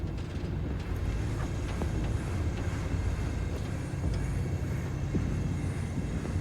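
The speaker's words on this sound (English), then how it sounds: "That train looks too modern to be controlled by a punch card system." A modern train runs in Cyberpunk 2077, a steady low rumbling drone with faint mechanical clicks throughout, heard alone at moderate volume.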